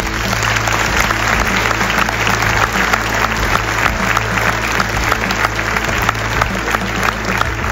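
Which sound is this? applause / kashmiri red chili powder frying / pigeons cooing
applause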